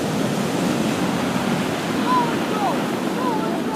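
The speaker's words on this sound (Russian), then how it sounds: "О, посмотрите, какая волна." Sea waves breaking on the shore at Sukhum, Abkhazia, on a snowy winter day, a steady loud wash of surf mixed with wind rumble and no clear pauses.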